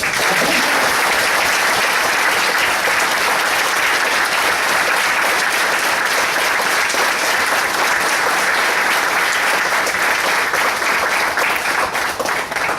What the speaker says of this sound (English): can we have a small round of applause for all the role players and everyone who put this up together